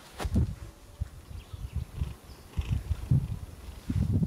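A cat purrs close by in soft, rhythmic pulses repeating steadily over a few seconds, with no talking.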